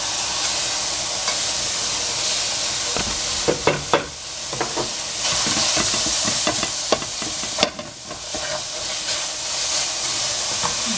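Cut capsicum sizzling loudly in a hot pot, a bright steady frying hiss broken by repeated sharp scrapes and clatters of stirring, close and prominent throughout.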